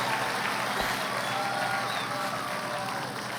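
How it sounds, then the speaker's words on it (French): Steady, dense applause from a crowd cheering a beauty pageant winner at a Latin American goddess contest, filling the whole stretch at a constant level, with possible voices mixed into the roar. "Un tonnerre d'applaudissements pour la superbe Priscilla Pavone"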